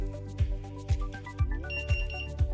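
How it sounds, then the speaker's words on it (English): A buzzer in an Arduino alcohol detection project beeps steadily, a short loud pulse roughly every half second over a constant electronic hum. "the buzzer is continuously beeping"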